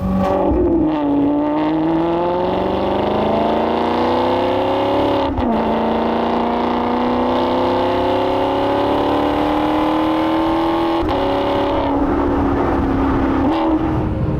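Maserati GranTurismo MC Stradale V8 revving hard while driving, a loud sustained engine roar climbing in pitch through the gears, with brief dips at two upshifts, heard from inside or close to the car.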